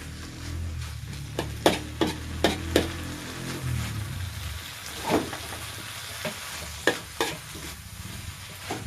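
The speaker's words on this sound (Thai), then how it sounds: "ผัดพอให้มันแห้งนิดนึง" Ripe jackfruit and egg stir-fried in a pan, with a soft steady sizzle broken by a series of sharp utensil scrapes and taps against the pan, spaced irregularly and heard close with no talking.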